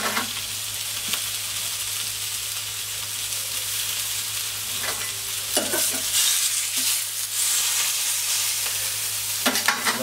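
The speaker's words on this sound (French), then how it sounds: "Donc j'ai mis la plancha à environ 250 degrés. Donc je l'ai juste posé dessus." Sous-vide meat searing on a plancha heated to about 250 degrees, giving a steady close sizzle and frying hiss throughout, with a few louder crackling bursts and no speech.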